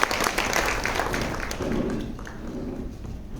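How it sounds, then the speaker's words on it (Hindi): Audience applause welcoming a speaker at a spiritual talk, a quiet, steady patter of many hands clapping that thins slightly toward the end. "हम जोरदार तालियों से एक बार फिर से दीदी जी का स्वागत करते हैं"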